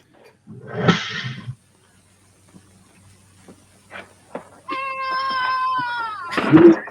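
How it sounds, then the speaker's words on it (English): A cat meows in a classroom setting: a short harmonic cry early on, then a longer, steady, high-pitched meow that bends downward and ends in a louder burst, with quiet gaps between. "Hey, who let that cat in here?"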